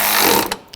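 A ratchet snugs down a headlight nut on a 2006-2009 Audi S4: a brief, close burst of rapid clicking that fades out within a second.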